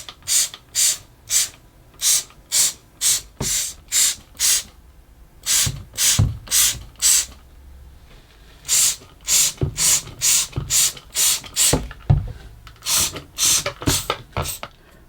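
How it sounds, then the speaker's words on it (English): A bleach spray cleaner is pumped in many rapid trigger bursts, each a sharp hissing spray in uneven rhythmic runs with short pauses between groups, close and fairly loud, during cleaning of a Miele WT 2670 washer dryer. "I'm going to use the spray bleach, give it a good spray, let it soak for a bit"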